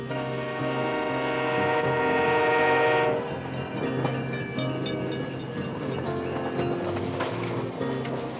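A passenger train rumbles close by, a long horn blast sounding first before giving way to the rhythmic clatter and rattle of wheels on the track.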